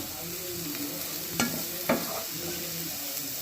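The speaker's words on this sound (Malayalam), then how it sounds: "നമുക്കിത് നന്നായിട്ട് വഴറ്റി കൊടുക്കാം കേട്ടോ നമുക്ക് ഇതിലേക്ക് ഇഞ്ചി വെളുത്തുള്ളി ഇട്ടെടുക്കാം" Ginger and garlic sauté in a hot, oily pan for a fish egg dish, hissing with a steady close sizzle and broken by two brief scrapes of stirring.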